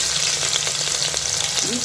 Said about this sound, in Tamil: நறுக்கி வச்சுருக்க வெங்காயத்தை சேர்த்து நல்லா வதக்கிக்கிறோம்